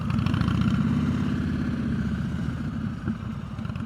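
A motorcycle engine held at steady throttle during advanced slow-speed riding practice in North Carolina, a continuous low rumble with pulsing firing rhythm, close and loud throughout with a slight dip near the end.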